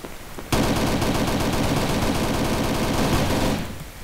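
Gunfire in the video game Battle For Survival, a single loud, dense burst of rapid automatic fire lasting about three seconds, close and continuous before it fades.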